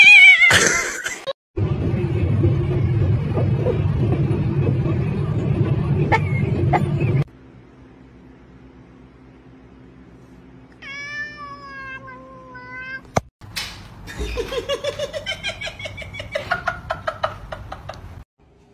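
A cat meows in a short run of rising, plaintive calls near the end, preceded by loud broadband noise and a low steady hum, with faint talk at times.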